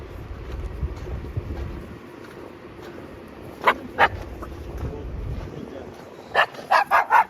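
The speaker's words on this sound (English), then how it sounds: "That little dog attacked me." A small dog barks and yips in short sharp bursts at close range outdoors by a frozen lake on a winter night in Kazan, the barks clustering toward the end over steady background noise.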